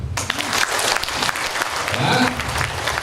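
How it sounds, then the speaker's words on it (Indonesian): Crowd applause for Pak SBY at a Demokrat Party consolidation rally in Bengkulu, a steady dense wash of clapping running throughout with voices and cheering mixed in. "tepuk tangan untuk Pak SBY"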